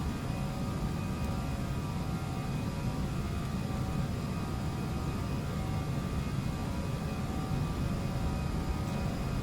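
An Aerosoft A319 in the Prepar3D flight simulator accelerates down the runway on its takeoff roll, a steady, loud broadband engine roar and rumble holding level throughout with no talk.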